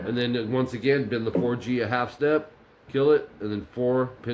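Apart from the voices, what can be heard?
No distinct noise like a dog, phone or traffic.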